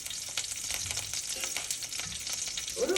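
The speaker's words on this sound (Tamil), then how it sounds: "இப்போ கருவேப்பிலையும் வெங்காயம் சேர்த்தாச்சு" Curry leaves and onion fry in a pan, a continuous close crackling sizzle with light stirring scrapes throughout, no speech.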